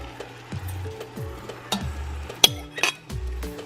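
Japchae ingredients dumped and scraped into a bowl, a series of close clinks, knocks and utensil taps against the dish, brief and irregular with no talk.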